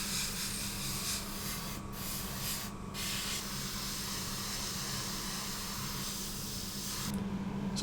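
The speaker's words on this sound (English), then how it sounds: "applying a coat of interior green" Airbrush spraying interior green paint inside a model P-51B aircraft, a steady close hiss of air and paint with brief pauses where the spray cuts out.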